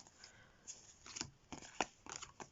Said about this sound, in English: So what I do in the shuffle is I really give them a good shuffle.